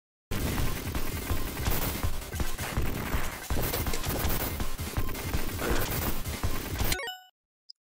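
Rapid bursts of gunfire and crashing impacts from the retro side-scrolling shooter Contra: Hard Corps, a loud, dense barrage running continuously for about seven seconds before cutting off abruptly.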